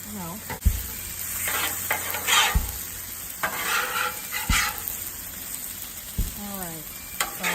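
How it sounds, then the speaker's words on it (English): A big spatula scooping chicken fajitas on a 36-inch Blackstone griddle, sizzling with repeated sharp metal scrapes and knocks, while a dog barks and someone talks briefly. "All right, so I'll grab my big spatula here. Start scooping up these fajitas."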